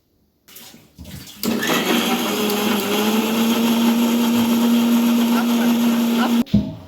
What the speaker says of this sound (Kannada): ತುಂಬ ನುಣ್ಣಗೆ ಗ್ರೈಂಡ್ ಮಾಡ್ಕೊಳ್ಳಿ. ಸೊ ಇವಾಗ ನಾನು ಗ್ರೈಂಡ್ ಮಾಡ್ಕೋತಾ ಇದ್ದೀನಿ.